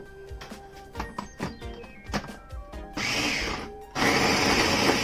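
A food processor pulses flour, coffee, salt and cold butter for a tart crust, giving two loud steady whirring bursts close by after a stretch of clattering and tapping.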